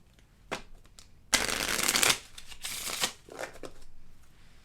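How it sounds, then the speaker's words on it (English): A deck of playing cards being reshuffled: a loud riffling burst of about a second, then softer card rustles and taps, with no talking. "reshuffle"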